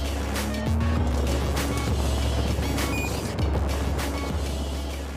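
A Can-Am Spyder F3 three-wheeler runs on the Palma circuit, its engine droning loudly and steadily with shifting pitch as it accelerates and changes gear, heard close up under rushing wind.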